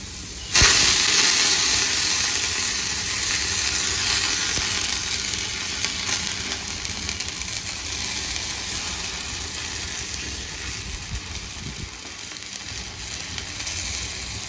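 Wheat flour pudla batter poured onto a lightly oiled hot griddle bursts into a loud, close sizzle that settles into a steady hiss with occasional scraping.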